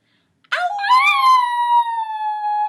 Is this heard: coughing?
no